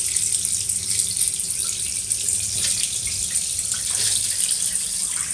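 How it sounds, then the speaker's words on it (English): An automatic bathtub in a Tokyo apartment fills itself with warm water from a small disc-shaped spout, giving a steady, continuous rushing splash of running water close by for the whole stretch, with no voices. "the bath begins to automatically fill itself from this"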